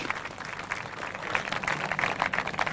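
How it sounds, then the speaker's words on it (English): A round of applause rises from the crowd at a 1999 clay shooting cup prize presentation, steady crowd clapping that swells slightly toward the end. "Nice round of applause, please, for these two gentlemen on stage."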